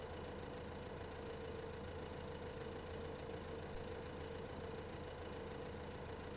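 Tractor engine in Farming Simulator 15 hauling a heavy silage load, a steady low droning hum that holds evenly throughout without breaks.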